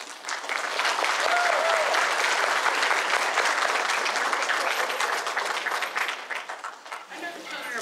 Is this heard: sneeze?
no